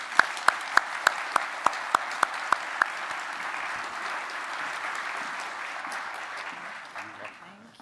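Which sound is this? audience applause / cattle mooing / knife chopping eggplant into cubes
audience applause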